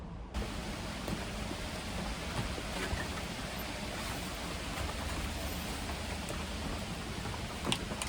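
Rain falls on a makeshift outdoor spray booth in light wind, making a constant dense patter and hiss with a few sharper drips, and no one speaking.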